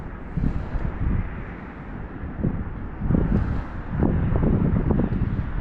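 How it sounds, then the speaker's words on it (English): Northerly wind buffets the microphone while bass fishing outdoors, producing a steady low roar with gusty surges that strengthen toward the end. "we've got an annoying northerly wind today"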